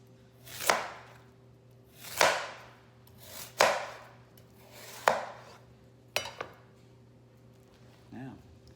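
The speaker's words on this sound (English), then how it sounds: "get in here on the edge and you just cut into it" A knife slices through a whole watermelon into rind-on slices, giving five sharp crunching cuts spaced about a second and a half apart, then a smaller clatter of the pieces being set down, close and clear over a low steady hum.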